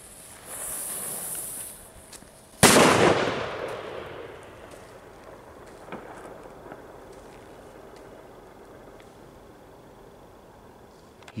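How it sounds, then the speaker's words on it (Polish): A single firecracker bursts outdoors with a sharp, loud bang, followed by a long rolling echo that fades over several seconds amid quiet ambient noise and a faint later click. "To jest taka petarda, po prostu, na której zostałem wychowany."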